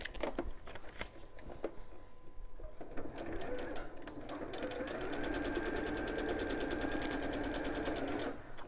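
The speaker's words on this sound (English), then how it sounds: "So we're going to stitch all of these pieces together now." A sewing machine stitches quilt pieces together, starting with a few short bursts and clicks before settling into a fast, steady, close whirring run; a voice is briefly heard near the start.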